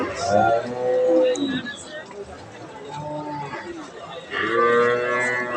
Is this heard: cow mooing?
yes